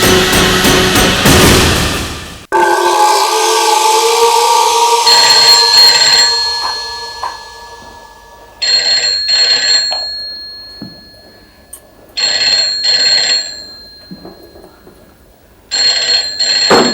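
Telephone ringing loudly and close, a bright electronic ring repeating in bursts with pauses between, after a short opening sting of dramatic noise.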